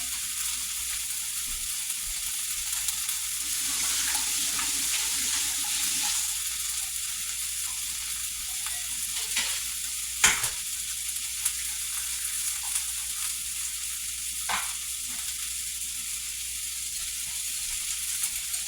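Ground beef cooking in a pan for a casserole makes a constant hissing sizzle that stays even throughout, with a few faint clicks and one sharper knock partway through.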